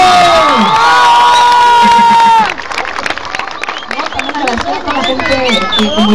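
A large outdoor crowd at a political rally in Cancún cheers, shouts and whoops, with children's voices and some clapping, loud and continuous, under a voice over the PA.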